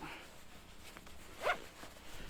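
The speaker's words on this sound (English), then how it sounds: "let's get my phone secured in a zipper pocket" A zipper pocket is drawn shut over a phone while out kayak fishing in December, a single quick, faint zip close by against a soft outdoor background.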